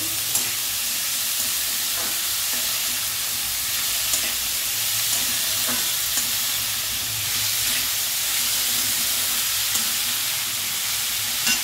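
Cauliflower and potato curry fries in a pan, a steady loud sizzle and hiss with occasional soft scrapes of stirring, close and continuous without any voices.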